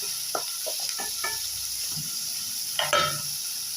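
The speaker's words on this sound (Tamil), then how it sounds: "வெங்காயம் இந்த மாதிரி நல்லா வருங்க இது வதக்கி விட்டுங்க" Onions sauté in a pan for brinjal and broad bean sambar, giving a soft, close sizzle with a few light stirring scrapes and clinks, alone without talk.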